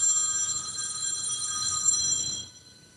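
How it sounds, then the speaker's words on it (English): A phone's electronic ring trills steadily at moderate loudness for over two seconds, then stops abruptly and leaves quiet room tone, with no voices. "Hey, are you gonna pick up the phone?"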